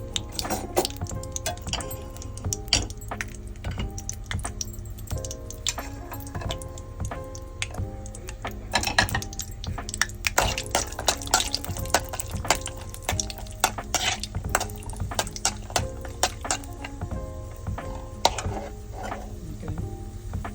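Cashews frying in ghee in a pan for egg fried rice, stirred with a utensil; steady soft scraping and clinking of spoon on metal with a continuous low sizzle, close by and without talk.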